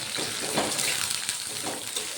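Bitter gourd pieces hit a hot turmeric tempering in a pan, cooked without deep frying, raising a steady close sizzle with faint stirring scrapes while a voice talks softly over it.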